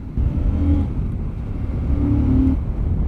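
A throaty motorcycle engine roars steadily, swelling twice as the throttle opens, with a deep rumbling exhaust note throughout and no voices.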